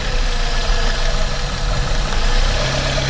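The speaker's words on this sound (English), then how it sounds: "You can hear the injector." Idling Honda K-series turbo engine with AWD, a steady loud mechanical rumble carrying a fine rapid ticking from the fuel injector, continuous and close throughout.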